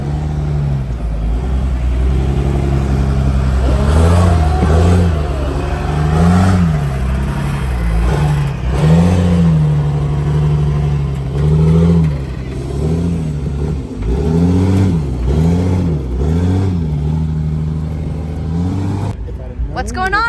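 An off-road diesel vehicle revs hard while blowing coal, its engine surging and falling in repeated loud pulls, with people talking over it.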